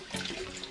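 About a gallon of water pours into a vintage Tupperware container, a brief close splashing rush that stays loud and steady throughout.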